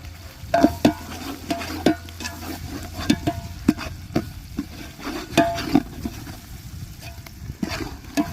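Chicken leg pieces sauté with ginger garlic paste in a large batch of about 10 kg, with rhythmic scraping and clanking stirs over a low sizzle and a steady background hum, no talking.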